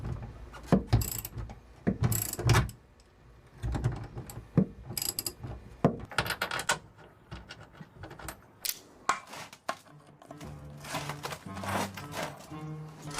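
A bolt being fastened with nuts, with a run of close metallic ratcheting clicks, taps and clunks in irregular bursts, loud and sharp, and no talking.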